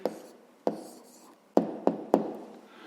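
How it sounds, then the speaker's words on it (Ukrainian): A pen taps and scratches on paper while an answer is written down, a few sharp, close strokes separated by short pauses, quiet overall. "Записуємо відповідь."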